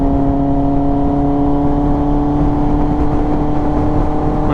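2025 Kawasaki ZX10R motorcycle engine while cruising in traffic, a loud, close, steady whirring drone with a sustained tone and road and wind noise, holding an even pitch throughout.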